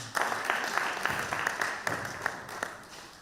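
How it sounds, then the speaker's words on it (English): An audience at a human rights day celebration event in Benin applauds, a brief burst of scattered hand clapping that rises and fades over a few seconds. "Please clap for me."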